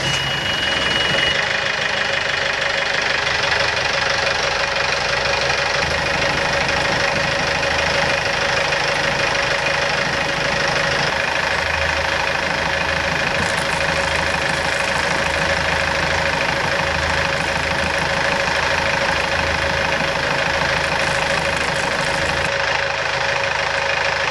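A sailboat's engine turns over and settles into a steady, rumbling idle, loud and continuous with a slight knocking chug throughout.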